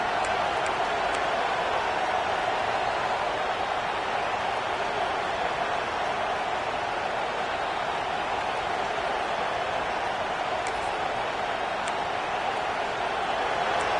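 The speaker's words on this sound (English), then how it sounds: "Listen to the crowd energy here in the early going." Steady roar of a football stadium crowd at a Clemson game, a continuous broad wash of cheering voices held at even loudness throughout, with no distinct applause bursts or clear speech standing out.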